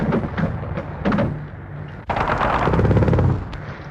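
Loud, close machine-gun bursts and rifle fire rattle from an ambush on jeeps racing for a bridge in a war film, in choppy volleys with a sharp crack midway.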